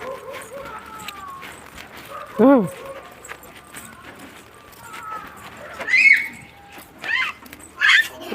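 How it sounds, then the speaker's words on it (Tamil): A dog barks a few times in short sharp bursts amid outdoor voices and street noise, one loud yelp early and higher barks later. "நாய் ஒன்றும் பண்ணாது."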